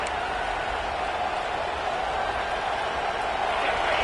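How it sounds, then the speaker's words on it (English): Dense stadium crowd roaring at a college football game between the Huskies and the Vols, a steady broadband wall of cheering that holds loud and unbroken throughout, with no distinct voices standing out. "The roar of the crowd trying to fuel this defense"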